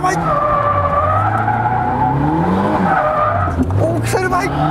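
A car drifts around pylons during a drift driving lesson, its engine droning loudly while the tires squeal in long, wavering tones and the revs surge near the end. It is heard close up and continuously.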